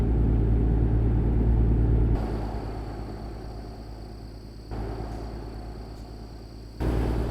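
Steady low engine drone and road rumble from an early International LoneStar truck with a Cummins ISX15 engine in American Truck Simulator, cruising on a highway with small shifts in load and level, no talking.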